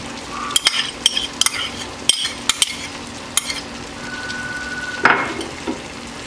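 Mushrooms go into a pan of chicken caramelized with Pony Malta, sizzling steadily under sharp clinks and scrapes of a utensil stirring against the pan, close and intermittent.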